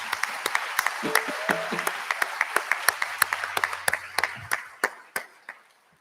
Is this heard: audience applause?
yes